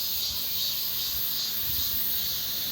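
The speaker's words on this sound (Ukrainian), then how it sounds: "треба хоч е, почитати, яка користь в цих цикадах взагалі. Ви чуєте?" Cicadas call from tree branches during an outing in Korea, a loud, steady, high-pitched buzzing drone that fills the whole stretch without a break. No one speaks.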